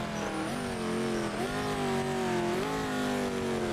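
A GT race car in the Project Motor Racing game comes down hard under braking, its engine note dropping through steady downshifts with a sustained droning whine, loud and continuous, no voices.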